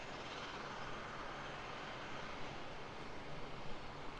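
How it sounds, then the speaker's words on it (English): A small Cessna Caravan turboprop of Barrier Air approaches Auckland Airport, its steady broadband engine roar sustained and fairly distant, with no voices. "A little Barrier Air Cessna Caravan coming then, eh?"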